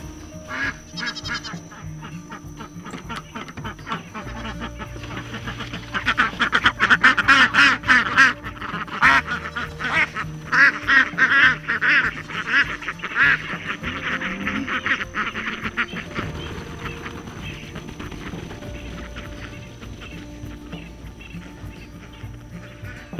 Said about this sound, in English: Let's let the ducks out before the chickens eat all of the food.